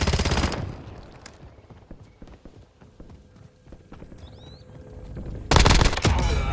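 Gunfire in the shooter video game Warzone: loud bursts of automatic fire at the start and end, with scattered shots and clatter in between, at moderate distance.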